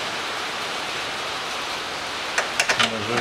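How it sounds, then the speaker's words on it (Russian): Rain falls steadily outdoors during repair work on a 2013 Mitsubishi ASX, a dense even hiss, with brief sounds of a voice near the end. "Опять дождь."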